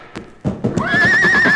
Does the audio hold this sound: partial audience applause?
no